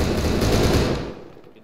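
Automatic gunfire from the video game Arma 3 rattles in a dense, loud burst lasting about a second before cutting off and fading.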